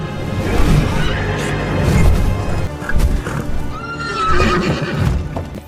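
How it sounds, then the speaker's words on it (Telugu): A horse neighs and whinnies loudly, with hoof clatter and crashing action sounds around it, portraying Pegasus, the winged horse, in Clash of the Titans. "ఆ గుర్రాలన్నింటినీ చూస్తుండగానే ఉన్నటువంటి ఒక భారీ నల్లటి రెక్కల గుర్రం అతని ముందు ప్రత్యక్షమవుతుంది"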